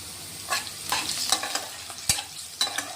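Two large chopped onions frying in hot oil with green chillies and asafoetida for kanda poha. The close sizzle comes with repeated clinks and scrapes of a spoon stirring the pan. There is no talking.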